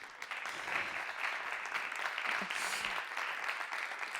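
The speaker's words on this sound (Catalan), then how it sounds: "Podeu aplaudir" Audience applause at a chamber music award ceremony, a steady dense wash of clapping that holds at an even level for the whole stretch without pause.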